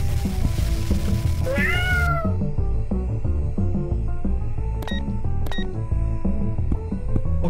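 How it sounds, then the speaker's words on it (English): Cats meow in a video game, several rising, drawn-out cries early on, followed by a steady electronic music bed with occasional sharp bleeps. "Okay, Ruby, I petted your cats."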